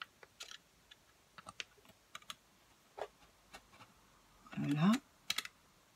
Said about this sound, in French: Les entailles, nous allons les faire avec le cutter.